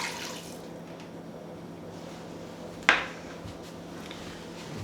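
Half a cup of water being poured in a home kitchen while making holiday gifts; a faint background hum, then a single sharp splash and short trickle near the middle, otherwise quiet.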